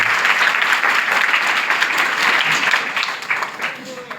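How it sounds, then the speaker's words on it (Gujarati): An audience at a wall painting seminar breaks into steady applause to welcome a guest, dense clapping that holds for several seconds before gradually thinning. "એમને જોરદાર તાળીઓથી"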